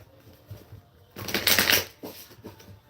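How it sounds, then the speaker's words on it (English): Tarot cards being shuffled close up, a soft riffling burst building in the middle, with quieter card handling and shuffling taps before and after. "I'm going to shuffle the cards."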